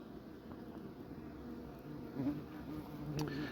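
Honey bees buzz continuously at a beehive during an inspection, a close, steady droning hum with individual bees swelling louder as they pass near.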